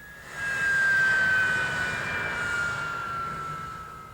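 A North American F-86 Sabre jet from the Cold War era roars past with a rising then steady whine, loud and nearby with a slowly falling pitch, alone without talk.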